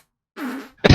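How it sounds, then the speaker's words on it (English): A fart pushed straight into a podcast microphone in a quiet room: after a pause a buzzing, sputtering blast runs for about a quarter second, then a sharp, loud wet splat closes it right up against the mic. "I got a really big fart brewing."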